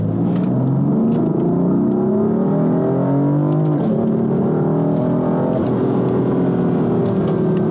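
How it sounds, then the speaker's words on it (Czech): Mercedes C63 engine in a sustained drive-by roar, rising and falling pitch with audible gear changes via paddle shifters, loud and close with no talk. "Mega mě baví to řazení těma pádlama."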